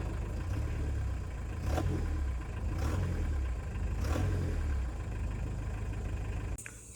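A Hindustan Contessa's diesel engine idles with a steady, loud low rumble, picking up in a few brief pulses of revving before cutting off sharply near the end.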